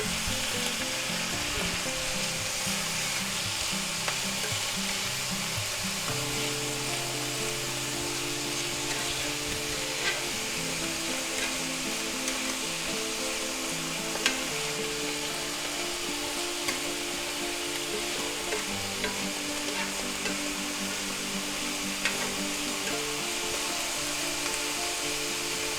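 Two tablespoons of minced garlic frying in a pan, a dense, steady, loud sizzle that carries on unbroken for the whole stretch, close to the pan with faint occasional stirring and no voices.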